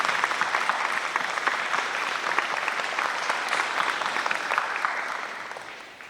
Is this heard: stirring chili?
no